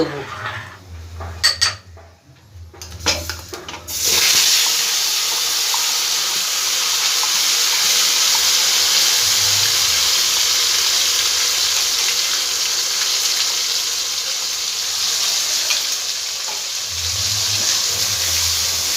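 Ground spice paste sizzling steadily in a hot pan as it fries for a jackfruit curry, a continuous bright hiss after a few clattering knocks of utensil against pan at the start.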